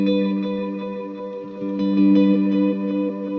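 An electric guitar feeds several stacked delay pedals, including an El Capistan, producing a thick, sustained ambient chord with pulsing repeats and gentle swells, loud and alone.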